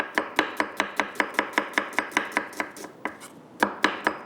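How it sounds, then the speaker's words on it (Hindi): Knife chopping onions and green chillies on a board, a steady run of sharp close taps about four per second with a brief pause near the end before resuming. "थोड़ा सा इसको मैं चॉप कर लूँगी"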